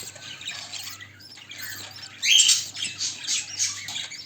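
Mother bird feeding her newly hatched chicks: high, thin chirps and squeaks from the nestlings, soft at first, then a burst of louder, excited calling partway through, close to the ear.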